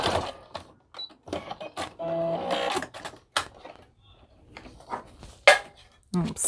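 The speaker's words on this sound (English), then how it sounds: "I'm just gonna backstitch on that." A sewing machine backstitches across a hooded towel in short bursts of rapid mechanical stitching, broken up by clicks and handling noises, with someone talking in between.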